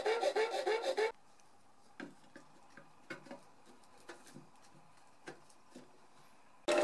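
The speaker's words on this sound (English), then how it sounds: "I used a file to finish off the edges." A hand file smooths the edges of a shape cut out with a coping saw for an infinity mirror enclosure, giving quiet, separate rasping strokes after a brief loud burst at the start.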